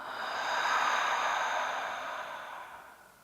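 A slow, deep exhale during a seated chair yoga breathing exercise, a soft airy whoosh that swells and then fades over about three seconds, close and alone with no talk.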